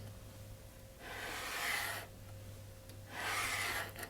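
Sandpaper rubs along the edge of a bamboo art panel to remove a burr, two soft, faint, drawn-out scraping strokes separated by a short pause, close and quiet.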